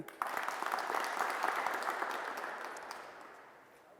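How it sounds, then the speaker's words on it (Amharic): An audience claps together at an outdoor farming and tractor event, a dense burst of applause that starts abruptly, holds steady, then slowly thins and fades, with no talking over it. "አጨብጭቡለት።"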